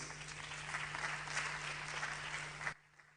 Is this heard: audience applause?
yes